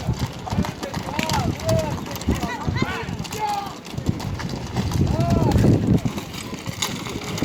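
Horses clip-clop through a horseback pushing contest in Jalal-Abad, their hooves thudding steadily beneath continuous loud commentary and crowd noise.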